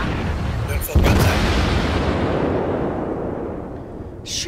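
Heavy naval guns of the Japanese cruiser Chikuma boom in a World of Warships sea battle, one loud blast near the start and then a long rumbling roar that fades slowly.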